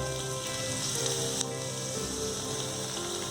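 Onions sizzle in hot oil in a pan for an onion tomato cream curry, a steady, even crackling hiss that runs throughout with a faint clink partway through and no voices.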